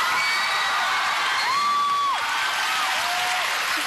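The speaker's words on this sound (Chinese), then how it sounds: "掌声鼓励" An audience at a Golden Melody Awards show applauds and cheers, a dense, sustained crowd clapping that carries evenly throughout.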